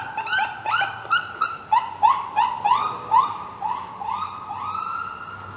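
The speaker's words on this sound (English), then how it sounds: "This is an interesting parade of beeps and sirens." Emergency vehicle sirens on a Toronto street downtown near Dundas Square, a rapid series of rising and falling electronic yelps and beeps repeating close by, loud and clear with no talking.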